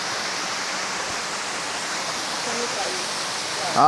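Busagak Falls, a hidden waterfall in Pinamungajan, Cebu, pours in a loud, continuous broadband roar heard up close, steady from start to finish, with a brief louder burst at the very end.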